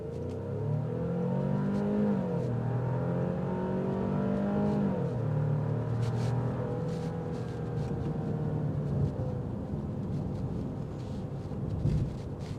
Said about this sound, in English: It's pretty quick once you get over that turbo lag